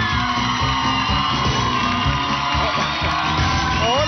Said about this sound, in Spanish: Fuerte el aplauso para Peri Cortés.